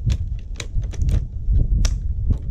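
Open It scissors snip through plastic packaging in a series of sharp, crisp clicks and cuts at an uneven rhythm, close and fairly loud, over a low rumbling background.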